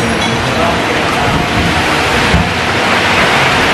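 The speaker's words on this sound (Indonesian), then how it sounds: "Hujannya terus banget ya." Heavy rain pours steadily onto a Panther tourist-train vehicle, a loud, dense, unbroken hiss that fills the whole stretch without pause.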